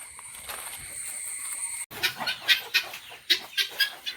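Chickens clucking inside a poultry and pet farm in Pathanamthitta, where fancy breeds are kept, a run of close, fairly loud clucks in an uneven rhythm after a brief steadier stretch of farm noise.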